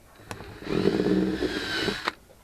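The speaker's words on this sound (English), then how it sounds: "what I'm going to do is drill me a little hole down" A power drill whirs steadily for about a second and a half, drilling a small hole in drywall, with a sharp click before and after.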